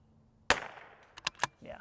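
A rifle fires a single sharp gunshot at an outdoor shooting range, with a decaying echo after it. Several quick, fainter clicks and clacks follow, then a brief spoken voice.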